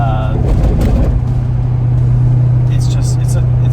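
Chevrolet C5 Corvette with a six-speed manual, high mileage, driving with a steady low engine drone heard from inside, while someone talks over it for most of the stretch.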